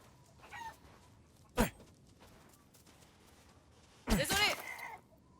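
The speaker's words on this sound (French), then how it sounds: "je tue les poules du coup ou pas?" Chickens clucking in the video game Resident Evil Village, with two short, sharp squawks bursting out a few seconds apart over a faint game ambience.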